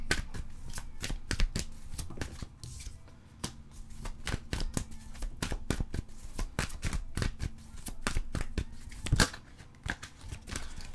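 Tarot cards are shuffled by hand, a dense run of sharp riffling flicks and soft slaps repeating irregularly for several seconds, close and clear with no talk.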